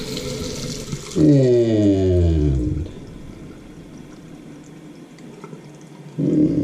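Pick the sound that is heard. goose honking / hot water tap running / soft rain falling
hot water tap running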